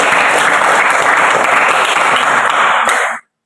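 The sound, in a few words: applause for student groups in classroom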